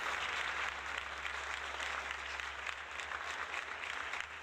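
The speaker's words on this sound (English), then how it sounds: "Loud applause." Applause from a crowd during a retro gaming charity stream, a continuous dense clatter of clapping held at a fairly even level throughout, heard somewhat distant and soft.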